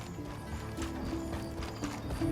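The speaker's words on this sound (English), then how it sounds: "The horses are restless." Horses in the Elder Scrolls Online video game shift and clop their hooves restlessly, with a faint whinny over a steady low background hum.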